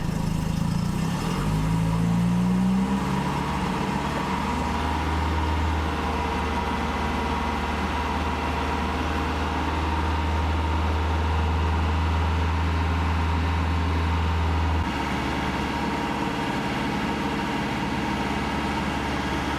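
A Volvo 360 B200E car engine, just rebuilt after cylinder head refitting, idles steadily and smoothly throughout, a continuous low rumble with a brief rev near the start, close by and with no talking.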